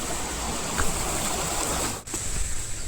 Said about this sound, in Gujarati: ઝરણું